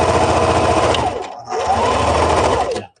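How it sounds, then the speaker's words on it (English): Close and loud, a sewing machine runs a straight line of stitching with a presser foot, a steady mechanical whir that slows briefly midway and then resumes before stopping, with no voices. "I'm just going to sew parallel to it"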